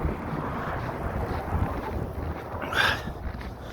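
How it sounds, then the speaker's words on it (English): Snowstorm wind blows outdoors in Canada, a continuous rough rumbling gust buffeting the microphone, loud and steady with a brief sharper swell near the end. "this video is just pretty much to show the snowstorm that's going on right now in Canada 2026"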